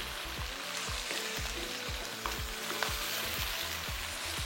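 Minced meat (qeema) fries in a pan with onions, a soft, constant sizzle with a regular rhythmic scraping of stirring repeating about twice a second, close and fairly quiet, with no voices.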